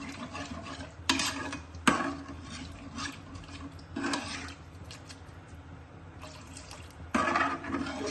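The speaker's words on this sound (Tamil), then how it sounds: "இந்த பச்சை ஸ்மெல் போகிற இதுக்காக கொஞ்சம் தண்ணி ஊற்றிக்கிறேன்" Water being poured into a pan of simmering cauliflower kurma, a faint splashing and bubbling wash with several louder sloshing bursts and stirring noises, close but quiet, no talk.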